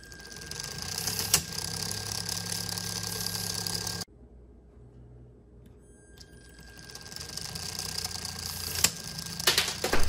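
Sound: motorized M&M launcher running and firing M&Ms

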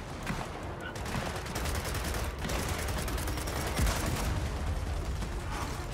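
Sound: gunfire from the video game Gears of War 4

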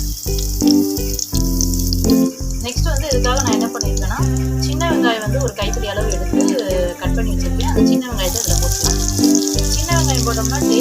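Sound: green chili added to hot oil with mustard seeds

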